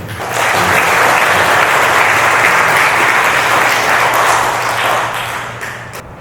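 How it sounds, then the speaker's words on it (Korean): Audience applause at a Buddhist dharma service held by a couples' lay association at a temple in Mokdong, rising quickly into steady, dense clapping for several seconds before tapering off near the end. "그런 의미에서 박수를 한번."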